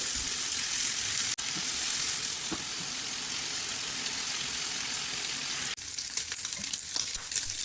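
Masala-coated prawns sizzle steadily in a hot pan, a loud, continuous crackling hiss broken by a couple of brief knocks as pieces are placed, with no voices over it.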